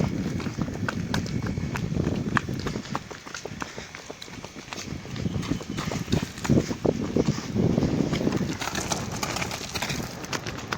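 Horse hooves clop along a road, shifting from a walking beat into quicker running strikes, close and uneven, with pigeons cooing and a voice murmuring in the background.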